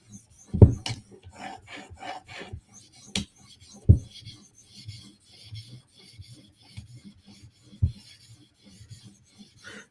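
A knife blade is drawn across a whetstone in soft, scattered scraping strokes, close and fairly quiet, with a few sharper knocks between passes.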